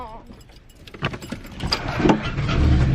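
Inside a car, rustling and squeaky creaks and clunks build into a rising engine rumble, with a voice heard briefly near the start.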